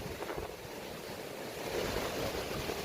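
Arabian Sea waves wash in at Payyambalam beach by the breakwater, a soft continuous surf rumble mixed with light wind buffeting, fairly faint and with no voices.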